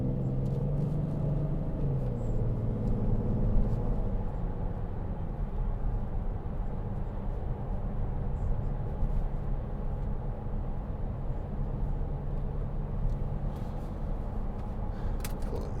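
A 2010 Audi Q7 6.0 TDI V12 Tiptronic quattro accelerating, heard from inside the cabin as a steady low engine rumble with a rising drone that holds at a constant, moderate level throughout.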